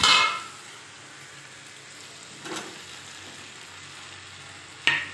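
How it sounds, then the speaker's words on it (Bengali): Ground spice paste fries in a pan with a soft hiss, broken by a few brief scraping and clattering bursts as okra is stirred in, quiet between them. "মশলা বাটাটা দিয়ে 5 থেকে 6 মিনিটের মতো ভেজে যখন মশলাটা ভাজা হবে তখন তার মধ্যে ভিন্ডিগুলি দিয়ে দেব।"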